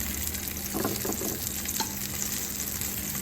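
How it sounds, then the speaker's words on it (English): Bacon frying in a pan for a café cow burger, a dense, continuous close sizzle with a few soft utensil scrapes, no talking. "We're going to then throw our bacon on."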